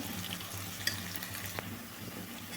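Masala for a Tamil-style pidi curry frying in a pan with oil, a soft steady sizzle and crackle with occasional stirring clicks, fairly quiet and close, no talking.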